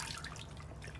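Soaked soybeans are rubbed by hand in a bowl of water to loosen their skins, making soft, faint sloshing and trickling with small drips.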